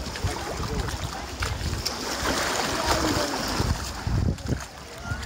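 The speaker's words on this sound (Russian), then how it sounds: "Волны сегодня небольшие, и вода относительно прозрачная и теплая" Small sea waves wash onto a sandy beach near Zelenogradsk in a continuous surf hiss, with soft surges and wind buffeting close to the microphone and no talk.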